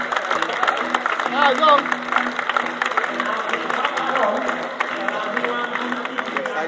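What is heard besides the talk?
audience applause for sidecar speedway riders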